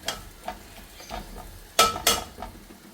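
Pumpkin gravy stirred in a pot: a few close spoon strokes and scrapes with soft bubbling, then two sharper, louder clanks near the end.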